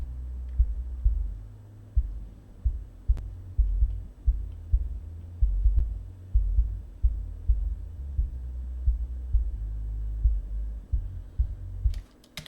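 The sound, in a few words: kick drum and bass filtered to 50 hertz and below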